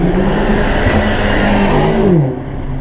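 A BMW M5 drives past on Sloane Street in central London, its loud engine note rising steadily and then dropping off near the end of the pass.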